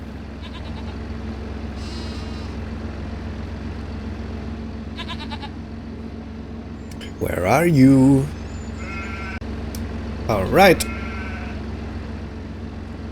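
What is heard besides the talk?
goats bleating on a farm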